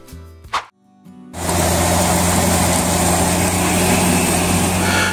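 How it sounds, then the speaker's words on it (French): A few sharp knocks and a brief whine, then the unrestricted diesel engine of a Case IH Maxxum 125 tractor roars to life and holds a loud, rough, steady drone. "Le son rauque et puissant d'un moteur diesel non bridé est une symphonie pour les passionnés de mécanique."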